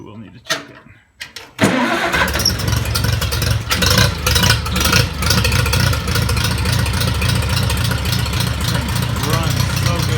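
A Farmall Cub tractor engine cranks, catches after a couple of tries and settles into a loud, steady running chug close by, with a person talking over it.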